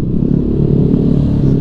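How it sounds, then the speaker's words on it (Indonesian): Motorcycle exhaust during a ride, a loud, steady low engine rumble with slight throttle fluctuations that runs unbroken through the whole stretch. "suara knalpot, suara apa kedengeran pokoknya."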